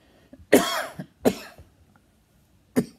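Three short, harsh coughs brought on by smoking a hemp wrap, the first two close together and the last after a pause, with quiet background between them.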